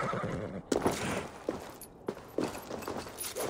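A horse in a video game whinnies loudly and close, with a few sharp hoof thuds and clip-clops scattered through the short stretch.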